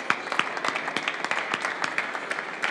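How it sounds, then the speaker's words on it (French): Audience applauding the judges at the Coffee in Good Spirits France 2017 final, a moderate crowd clapping steadily with distinct individual claps audible, fairly even throughout. "On applaudit les juges s'il vous plaît, messieurs, dames."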